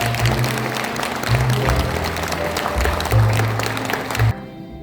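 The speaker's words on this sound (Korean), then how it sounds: "여러분 큰 박수 주십시오." Audience applause at a book concert greeting the author, a dense wash of clapping from a crowd filling the room, steady and fairly loud for about four seconds before cutting off abruptly.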